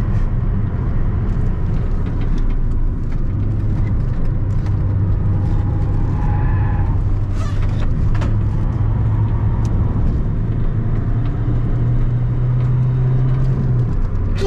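A 75-horsepower car runs hard and fast around the Nürburgring during a regularity race, its engine droning loud and continuous with wind and road roar, rising in pitch toward the end.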